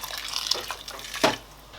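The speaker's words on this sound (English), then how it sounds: "I'm going to add more water in the rice" Water splashes and trickles into a pot of oxtail, rice and beans in short bursts, with a brief louder pour near the end, close and fairly quiet.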